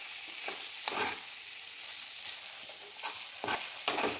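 Anchovy curry masala being stirred in a pan, with a spoon scraping in several distinct strokes over a soft, steady sizzle, close and fairly quiet with no talking.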